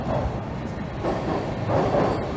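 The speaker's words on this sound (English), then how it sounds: "I can hear a subway train going by" A subway train rumbles past beneath Yonge Street in downtown Toronto, a steady low roar with a faint high metallic whine, heard from street level for a few seconds without speech.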